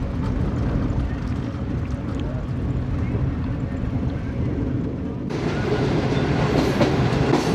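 The 28DN Shalimar Express rumbles steadily from inside an AC Standard coach at over 100 km/h, a continuous loud roar with rhythmic wheel clatter that brightens partway through.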